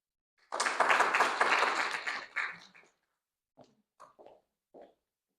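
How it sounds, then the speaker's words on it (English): A small audience at a personal finance talk gives the presenter a short round of applause, about two seconds of clustered clapping that fades into a few isolated, separate claps before silence. "A round of applause, please."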